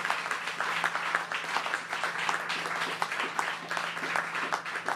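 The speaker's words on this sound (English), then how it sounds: "Let's give them a round of applause." An audience at a Green Party leader's post-election event in a pandemic federal election applauds steadily, a dense and even wash of clapping that lasts throughout.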